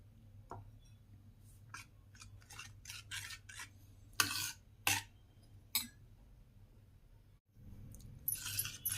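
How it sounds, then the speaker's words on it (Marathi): Tamarind chutney being stirred in a pan, a spoon scraping and rasping against the metal in a run of short, uneven strokes, some sharper than others, over a low background hum, with no talking. "ते ढवळत राहायचं असं असं"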